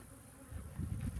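Honey bees buzz inside an opened hive during a winter inspection, a close, steady, dense hum with no voices.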